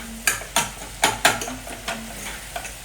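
Tomatoes sauté in a pan for kilimeen fish curry as a spatula taps and scrapes about seven times in a quick irregular rhythm over a faint sizzle.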